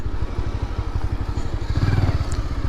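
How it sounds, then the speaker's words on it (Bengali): A motorcycle idles close by while being parked, its engine putting out a low, rapid, pulsing putter throughout. "এখন এই পাশে বাইক রাখা লাগবে"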